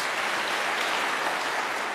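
A church congregation at an online worship service claps for Jesus, a continuous, even wash of applause at moderate volume with no talking.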